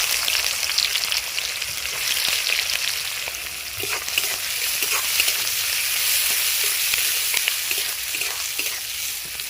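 Chopped onion frying in hot mustard oil with whole garam masala, a steady close sizzle with faint stirring clicks throughout, no voices.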